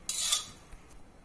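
A spoon scrapes and clinks against a bowl as freshly cooked rice is spread out to cool, with one bright scraping stroke followed by a few faint soft taps.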